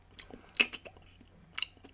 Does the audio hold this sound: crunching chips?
yes